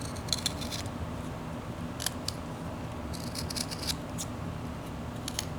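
A whittling knife cuts into wood while carving a flat-plane figure, giving faint, close, short scraping snicks in small irregular bursts over a quiet background.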